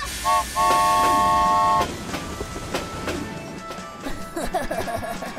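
A cartoon train whistle blows in two short toots over the steady rumble and clatter of rolling rail cars, with a faint voice underneath.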